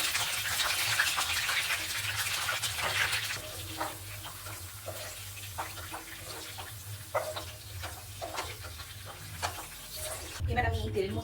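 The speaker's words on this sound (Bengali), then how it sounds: "দেখো একটা ছোট্ট ক্যাপসিকাম হালকা ফ্রাই করে আমি" A small capsicum fries lightly in oil with a soft, close sizzle and scattered pops and scrapes, quiet and steady throughout.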